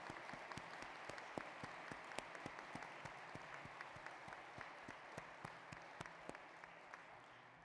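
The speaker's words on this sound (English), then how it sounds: "Please join me in a round of applause for all our awardees" Sustained applause from a graduation commencement audience honoring awardees, a dense steady wash of many hands clapping with distinct individual claps, moderately distant and fading slightly at the end.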